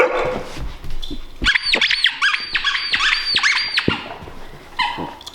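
A dog's squeaky toy squeaks in a rapid burst of about six to eight shrill squeaks with short pauses between them. The squeaks are loud and close, mixed with thumps and rustling, and one more squeak follows near the end.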